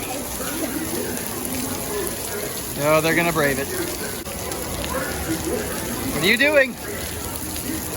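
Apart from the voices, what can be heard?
heavy rain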